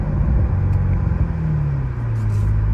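A 2017 Chevrolet Corvette C7 Z51 V8 gives a deep, loud exhaust rumble heard from inside the car, with a steady low drone that shifts slightly in pitch as engine speed changes.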